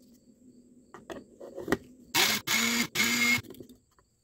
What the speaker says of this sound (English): I'm going to put this in first all by itself into the grinder and grind it up just for a second or two.